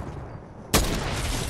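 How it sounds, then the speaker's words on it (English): Gunfire from enemies in a shooter video game, a sudden loud burst that cuts in after a quiet stretch and carries on as dense, sustained crackling noise. "They keep shooting."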